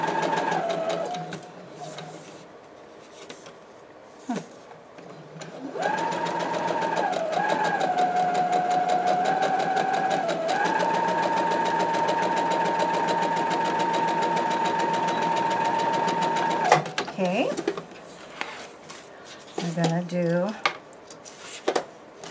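A sewing machine stitches a fabric seam for a shabby chic fabric basket, running in a long steady whirring burst after a short start, with brief stop-start runs before and after and occasional quiet voice.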